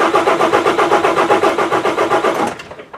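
A diesel engine cranks over and over with a steady rhythmic chug, loud and close, failing to catch before cutting off near the end.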